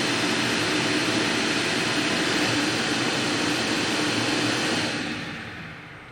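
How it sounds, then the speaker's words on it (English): A shop vac and a hair dryer run together on a power station under load, a loud steady whirring roar that holds for about five seconds before trailing off as they wind down. "So I'm going to turn the shop vac on and then also the hair dryer."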